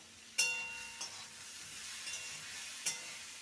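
Torn green chillies frying with ginger in a pan give a continuous close sizzle, punctuated by a few sharp clinks of a utensil against the pan.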